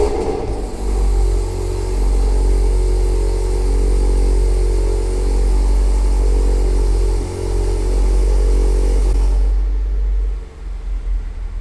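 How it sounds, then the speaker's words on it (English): A car engine idles and warms up after a Versatuner Stage 2 tune flash, a loud steady low rumble holding for about nine seconds before dropping off and going quiet, with no talking. "we're going to allow the vehicle to warm up just a little bit before we start driving"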